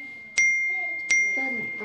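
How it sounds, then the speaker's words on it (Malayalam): A phone message notification sounds as two bright, ringing chimes a bit under a second apart, each fading slowly, followed by faint background sound. "മെസ്സേജ് വന്നു കൊറേ സമയം ആയല്ലോ അപ്പു ഏട്ടൻ"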